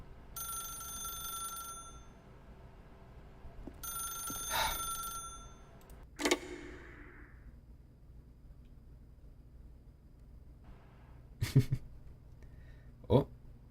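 An old-fashioned telephone bell rings in long bursts separated by pauses in The Stanley Parable, followed by a few sharp clunks and a hum of quiet room tone.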